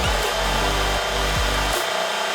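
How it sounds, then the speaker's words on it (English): Handheld router carving a pocket out of a wooden InWin 303 PC case panel for a resin pour, a steady loud whine with a few brief bumps in pitch as the bit bites, then cutting off near the end. "take the router, come through and carve this out."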